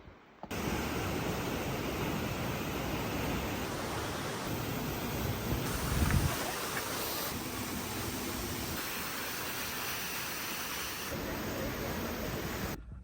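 Waterfall in a Slovenian national park, a steady broadband rush of falling water heard from a short distance, fairly even in level throughout with no clear voices over it.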